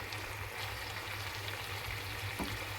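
Nellore-style fish pieces fry in a pan with a soft, steady sizzle, faint and even throughout, with no talking.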